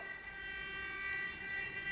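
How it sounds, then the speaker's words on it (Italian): An ambulance siren passes at a distance, its steady wailing tones held at moderate loudness through the whole two seconds with no talk over it. "Ci manca solo più l'ambulanza, o la polizia, quello che è, l'ambulanza mi sa"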